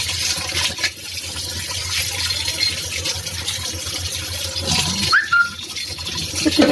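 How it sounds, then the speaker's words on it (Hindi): Tap water running over a pressure cooker whistle being rinsed at a kitchen sink, a steady close splashing stream with brief clinks as the part is handled, no talking. "पानी ड्रेन करेंगे, ऊपर से इसको धो लेंगे अच्छे से।"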